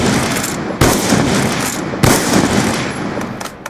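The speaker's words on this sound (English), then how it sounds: "Now let's do fire rate between the Ballista and the DSR 50." Ballista and DSR 50 sniper rifles firing in Black Ops 2, two sharp loud shots spaced about a second apart, each followed by ringing reverberant tail over steady game ambience.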